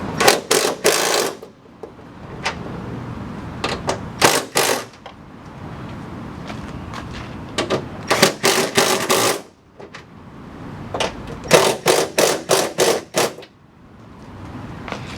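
Nuts being tightened to fasten a spoiler onto the trunk lid of a 2010-2014 Ford Mustang, heard as close bursts of rapid mechanical clicking that come in several separate runs, with quieter handling noise in the gaps between them.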